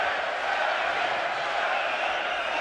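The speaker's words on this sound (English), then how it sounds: "The crowd chanting for their Canadian hero." A boxing arena crowd chants for Canadian fighter David Lemieux during a bout against Billy Joe Saunders, a loud, continuous mass of voices filling the hall without pause.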